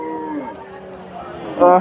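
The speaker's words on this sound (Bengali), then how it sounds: "মোটামুটি সুন্দর সুন্দর ফ্রিজিয়ান জাতের ষাঁড় গরুগুলো আছে" Friesian bulls lowing at a busy cattle market in Bogura, one steady moo running through the first half, then a louder, closer bellow near the end over a low murmur of crowd.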